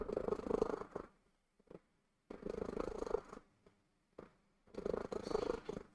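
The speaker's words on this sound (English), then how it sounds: "She's got a pretty loud purr too." A cat purrs loudly and close by, in three long rumbling bursts of a couple of seconds each, separated by brief quiet pauses.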